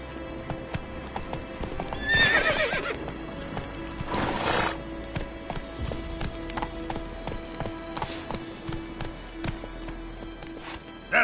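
Roach the horse in The Witcher 3 gallops with rhythmic hoofbeats and lets out loud whinnies, hooves pounding steadily beneath the neighs.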